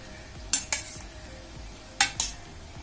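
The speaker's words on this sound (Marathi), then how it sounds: "आपण ताकामध्ये छान चमचम बुडवून घेऊया, सारखं वर खाली करून सर्व बाजूला पाक लावून घेऊया चमचमला।" Bread chum chum sweets being turned over and over in sugar syrup, giving four short clinks and sloshes in two pairs against a quiet kitchen background.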